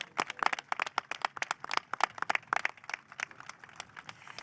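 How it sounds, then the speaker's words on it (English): A crowd at a Louisville neighborhood development event applauds, many hands clapping in a dense, crackling patter that peaks early and slowly thins out toward the end. "a round of applause for the president of the Paristown Point Neighborhood Association, Joanne Robinson."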